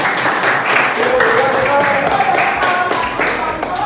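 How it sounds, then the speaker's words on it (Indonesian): A classroom of students claps together for classmates, a dense burst of many hands sustained for several seconds, with the teacher's voice faintly mixed in underneath. "Tepuk tangan untuk mereka."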